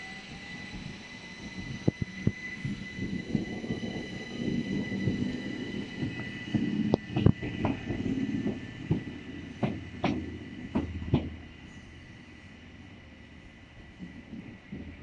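A train passes through St Leonards Warrior Square station, a rumbling approach with a string of sharp wheel clacks and squeals that peaks mid-way, then recedes to a quiet hum.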